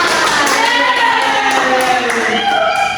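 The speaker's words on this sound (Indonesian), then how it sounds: "tepuk tangan buat Farhan" Classroom clapping for a student named Farhan during a Sundanese oral-literature lesson: a dense, loud, continuous patter of many hands with voices mixed in throughout the three seconds.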